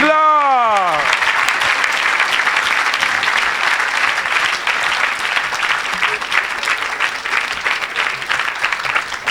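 A congregation at a church miracle service breaks into loud, sustained applause, dense clapping that carries on steadily and only eases slightly near the end.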